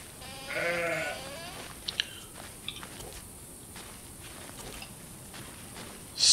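Sheep bleat near a sheep stall in the video game Force of Nature II: one wavering bleat stands out early, followed by a few soft clicks and quiet rustling at low level.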